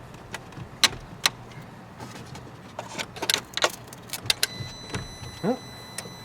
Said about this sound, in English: So I'm reconnecting the battery.